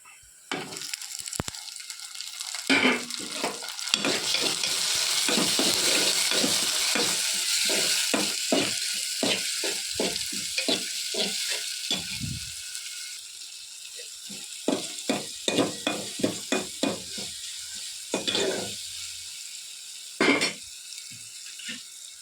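Ingredients for a crab curry frying in a pan: a continuous hiss of sizzling oil with a run of quick scraping and clattering stirs, loud and close, fading to sparse clinks near the end, with no talking.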